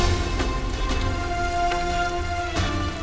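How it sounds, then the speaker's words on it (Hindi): Rain falls in a steady, dense hiss, with a few soft drip impacts and a faint musical score underneath, and no one talking. "इस बारिश को भी आज ही होना था।"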